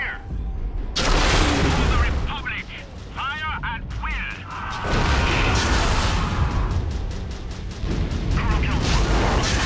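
Mechwarrior 5 battlemech weapons fire in combat, a mix of rapid repeated shots, booming impacts and laser-like zaps layered densely over continuous mechanical rumble, with radio voices talking over the action.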